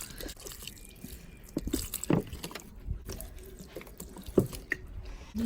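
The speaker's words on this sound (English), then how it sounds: "Need to water the plants a bit" Water poured from a bottle onto garden plants, irregular soft splashes and trickles patter on leaves and soil at close range, quiet and intermittent with brief louder spurts.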